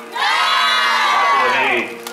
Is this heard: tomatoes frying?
no